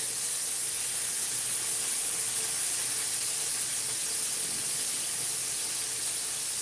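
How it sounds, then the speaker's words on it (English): Bacon frying in a pan gives a loud, constant broadband sizzle and hiss that runs unbroken from start to finish, close by and with no voices over it. "Man, the bacon is really loud."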